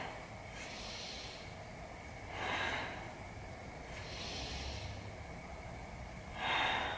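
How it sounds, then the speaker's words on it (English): Deep breaths during a beginner yoga session, heard as slow, airy inhales and exhales close to the mic, with about three long swells spaced a few seconds apart over a quiet room. "Let's take 3 big breaths."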